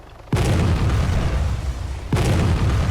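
Artillery rounds land in ArmA 3 with two heavy, loud booming explosions about two seconds apart, each leaving a deep rumbling roar.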